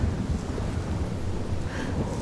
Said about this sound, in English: I've never seen a storm like this in Oregon.